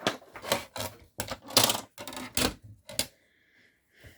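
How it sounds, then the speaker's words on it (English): Crafting paper trimmer slicing through cardstock in a quick series of sharp rasping strokes, close and fairly loud, then a brief faint scrape at the end. "Let's do the trimming again."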